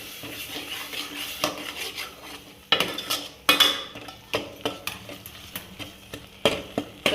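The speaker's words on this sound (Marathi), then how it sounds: "त्यानंतर त्याच्यात भाजलेला कांदा आणि जे डाळीचं वाटण होतं ते टाकून घ्यायचं आणि ह्यालाही चांगलं थोडंसं तेल सुटेपर्यंत परतून घ्यायचं" A spoon stirs and sautés a thick masala of roasted onion and ground dal paste in a pan for katachi amti, giving repeated scraping clinks against the metal with a faint sizzle underneath, close and fairly loud, with no talking.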